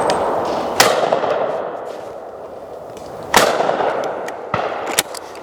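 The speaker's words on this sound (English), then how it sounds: "I'm going to shoot a couple of pairs from each stand" Three sharp, loud shotgun blasts from a Lanber Sporter break the quiet at a clay shooting stand, spaced a few seconds apart, each with a short ringing decay over faint outdoor background noise.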